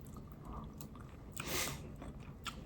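Close, quiet chewing while eating tapa, soft wet crunches and squishy bites repeating irregularly with one louder burst in the middle.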